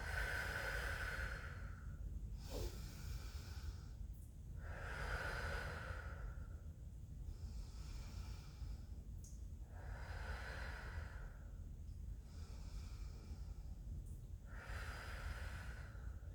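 Deep yoga breathing during a pelvic floor class, slow rhythmic inhales and exhales repeating about every two to three seconds, close and soft over steady room noise.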